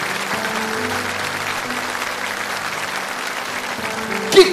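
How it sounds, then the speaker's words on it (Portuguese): A church congregation applauds steadily through a Catholic homily, a dense, even clapping that holds throughout, with a brief sharp sound near the end. "Pode aplaudir esta carta que Paulo escreve a Timóteo"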